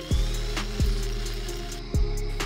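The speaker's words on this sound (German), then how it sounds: "Wir benutzten die Drehmaschine als Standbohrmaschine. Um die Felge festzumachen, haben wir 2 Löcher gebohrt." A lathe pressed into service as a drill press bores two holes through a wheel rim, giving a steady motor whine with three sharp low thuds as the bit bites into the metal, close and loud.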